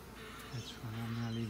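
A low, steady insect buzz hums close by, honeybees droning at an open hive during inspection, with a few louder swells, no talking.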